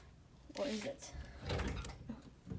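Old dorm closet door opening with a scraping, creaking rumble in two short bursts, close by, while a person talks briefly.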